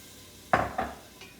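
Milk added slowly into a hot, sizzling pan for lobster mac and cheese, giving two or three brief splashing sizzles close by over a low background hiss.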